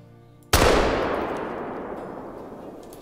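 A single sharp rifle shot in the hunting video game theHunter: Call of the Wild, loud and sudden, followed by a long rolling echo that slowly fades over a quiet background, with no voices.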